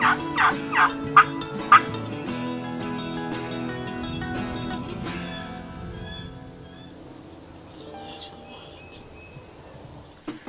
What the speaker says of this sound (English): He was just standing out there gobbling.